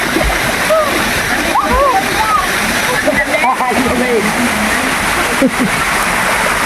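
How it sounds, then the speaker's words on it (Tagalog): A stream at a forest resort feeds water into a swimming pool, a steady close rush of flowing and splashing water that runs throughout, with bird chirps faintly above it. "Dito sa Sapa, nanggagaling ang tubig sa swimming pool."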